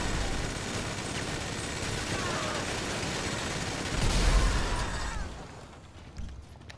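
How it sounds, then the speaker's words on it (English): Minigun fire in GTA Online during a Gunrunning supply delivery mission: dense, sustained rapid gunfire, loud and continuous, swelling with an explosion-like burst before cutting off into quieter game sounds. "Now let's shred them up with a minigun."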